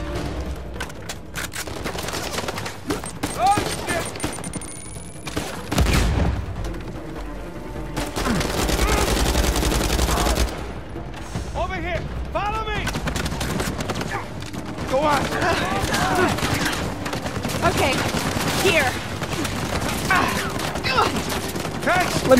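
Gunfire in the video game Uncharted 4 crackles in irregular bursts and rapid volleys across a dense, busy soundscape, with a loud burst midway and continuous action noise around it.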